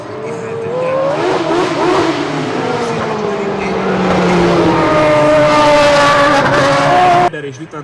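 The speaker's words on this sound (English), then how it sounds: "ez az autó, amit Gerhard Berger vezet, az 1980-ból származik, a McLaren MP4 1-es jelű gépe" A 1980 McLaren MP4/1 Formula One car driven by Gerhard Berger, its engine loud and sustained with rising revs and gear shifts, under a continuous commentator voice, cutting off abruptly near the end.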